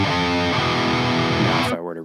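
Heavily saturated, distorted electric guitar from free plugins rings out in a dense sustained metal chord, cutting off abruptly near the end.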